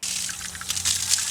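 Water spraying from a garden hose onto a hot grill: a brief, bright hissing splash of running water, fairly close and steady for about a second.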